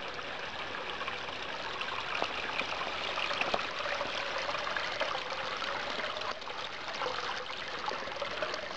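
A spring trickles steadily in a mountain forest near Yalta, a soft, continuous babble of running water heard alone at a modest distance.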